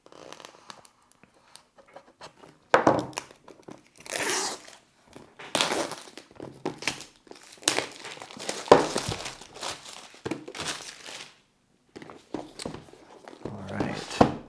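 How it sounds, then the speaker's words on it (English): Plastic wrapping on a DJI RC controller box being cut and pulled open with a knife, close crinkling, tearing and rustling in irregular bursts with quiet gaps, while someone talks at times. "I'll just kind of cut this open. It's just a little bit of plastic"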